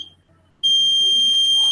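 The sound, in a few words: laser security alarm buzzer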